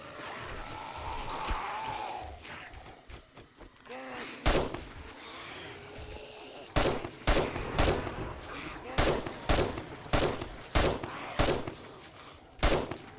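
Single heavy gunshots fired at tall elite zombies in 7 Days to Die desert combat, sharp loud cracks spaced irregularly, some in quick pairs, over quieter rustling and game ambience.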